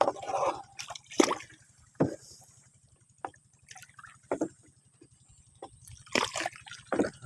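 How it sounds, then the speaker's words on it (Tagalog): Liquid fertilizer mixed with humic acid being stirred in a container for feeding bitter gourd plants, quiet sloshing with scattered sharp splashes and knocks at irregular intervals. "Haluin lang natin para maluto yung pataba."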